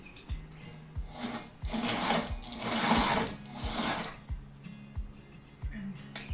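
Sewing machine stitching a boat window, run by a foot pedal: short bursts of rapid mechanical whirring separated by brief pauses, close and fairly quiet, with no talk.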